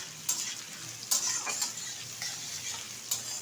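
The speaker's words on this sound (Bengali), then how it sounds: "হালকা করে একটু ভেজে নেব।" Two whole garlic cloves lightly frying in a pan while cooking Bihari-style mutton, a soft steady sizzle broken by a few sharp stirring scrapes, no voices.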